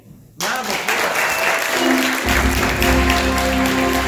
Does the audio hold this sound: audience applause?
yes